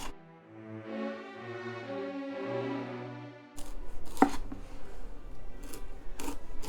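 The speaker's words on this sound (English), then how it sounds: "we're just going to carefully peel off this tough outer" A knife scrapes and shaves tough outer skin from a root vegetable, with close, rough rasping and chopping strokes that follow a stretch of music.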